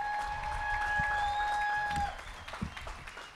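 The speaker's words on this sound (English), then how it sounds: "Can we give them a round of applause," Applause and cheering from a crowd at a high school graduation ceremony for the class of 2021, a sustained wash of clapping over a steady tone from the sound system that cuts off midway, after which the clapping thins into scattered claps.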